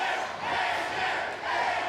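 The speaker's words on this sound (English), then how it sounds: "Half this crowd screaming AJ, the other half decides to get louder screaming Hardy, and the AJ crowd starts screaming harder" A wrestling crowd at a TNA Xplosion event screams and chants for AJ Styles, a dense roaring wall of voices that swells, dips briefly, then surges again.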